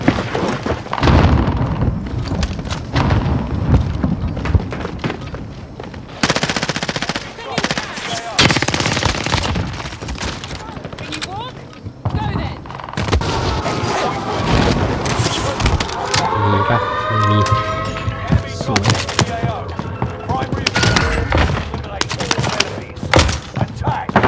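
A full-auto 1911 pistol fires in Call of Duty Warzone, loud and close in rapid rattling bursts that go on almost without pause, mixed with thuds and other game noise.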